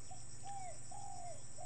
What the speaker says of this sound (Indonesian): Jadi kita coba panggil tekukur.